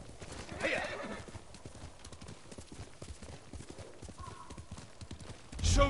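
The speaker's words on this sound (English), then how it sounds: "Good horse, Nobu." Rhythmic hoofbeats clip-clop up close, with a horse whinnying near the end; no one speaks.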